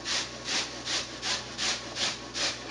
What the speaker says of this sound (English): let's go ahead and grate away here